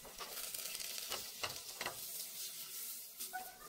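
Two cubes of butter melting in hot oil in a pan while tinola is cooked, giving a steady close sizzle with soft crackling pops and the occasional scrape of stirring, with no talk.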